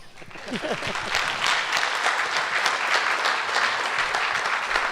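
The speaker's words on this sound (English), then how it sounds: "let's give the panelists a big round of applause" Audience applause for panelists at the close of a town hall on the Lake Pillsbury and Potter Valley Project dams; a few claps and a brief voice lead into steady clapping from a modest crowd, moderately loud and sustained.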